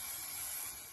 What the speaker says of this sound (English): So I'm using a spray adhesive, which is quite good for this, and just spray the boards.